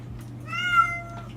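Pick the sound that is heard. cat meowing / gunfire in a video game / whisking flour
cat meowing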